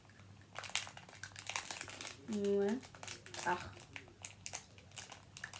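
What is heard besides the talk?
plastic package bag torn open with teeth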